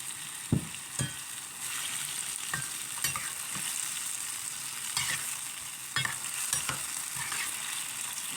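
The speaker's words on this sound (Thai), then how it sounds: "ผัดให้สุกๆนะคะ" Pork and tofu stir-fried with cucumber and tomato, a steady sizzle under irregular spatula clacks and scrapes against the pan, some sharp and close, recurring every second or so.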